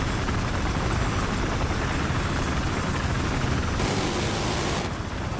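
A Venom helicopter in a Battlefield game on Wake Island drones with a loud continuous rotor and engine roar, briefly joined by a burst of hissing noise near the end.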